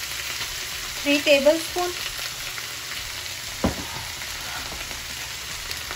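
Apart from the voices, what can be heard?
dark soy sauce sizzling in chilli chicken pan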